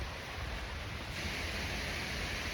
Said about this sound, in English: We got the water coming up over the dam, feeding down into this little creek.